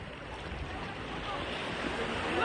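Rough sea waves surging in a continuous broadband wash at Dingalan, building slightly louder toward the end, with wind noise and no clear talk.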